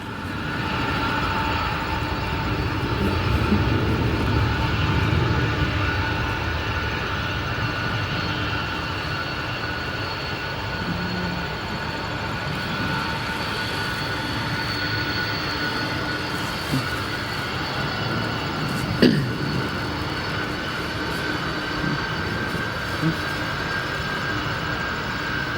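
An airplane taxis at O'Hare Airport, a steady, fairly loud engine drone with a whining tone holding constant for the whole stretch, distant rumble underneath and one brief sharp knock.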